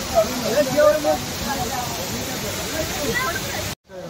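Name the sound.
waterfall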